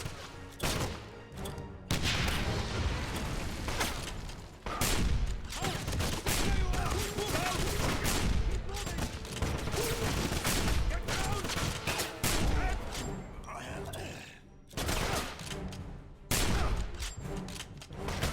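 Rapid gunfire in the 2009 Wolfenstein PC game rattles in dense fusillades of shots over about eighteen seconds, broken by a few brief pauses.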